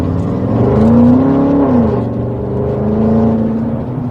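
Large BMW E70 X5 SUV with a V8 engine, driving at low speed, gives a steady deep drone that swells briefly as it accelerates, then settles back to a smooth cruise.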